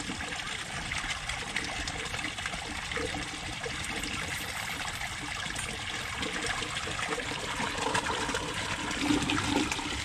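Water trickles out of pond tubing in a steady, continuous dribble and gush with no break, near and fairly loud throughout.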